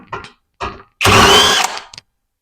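A power tool spins out screws from a Suzuki TL1000R fuel pump, with two short whirring bursts followed by a longer, louder run and a brief tail, close up with no talking.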